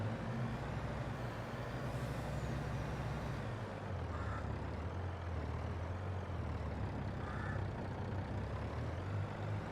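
Three grain trucks hauling from a yard grain silo and elevator in Farming Simulator 22, a steady loud low engine rumble running throughout with faint brief hiss bursts, no talking.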